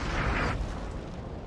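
An artillery battery of cannons firing in the video game Napoleon: Total War: a burst of explosive booms followed by a rumbling, fading wash of battle noise.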